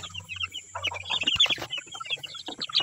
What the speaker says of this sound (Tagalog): ibabalik na natin yung mga sisiw. Yan, 20 piraso to na RIR,